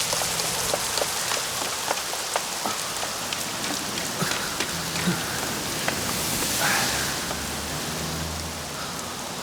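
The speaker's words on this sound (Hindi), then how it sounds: "अरे बारिश शुरू हो गई।" Steady rain falls on a hard surface with scattered close drops, a continuous hiss at an even loudness with no voices.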